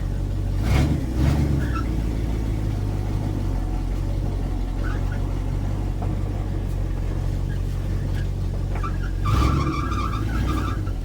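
Restored Dodge W200 truck maneuvering slowly with nearly empty power steering, its engine a loud, constant low drone, with squealing strain from the steering pump rising near the start and again near the end.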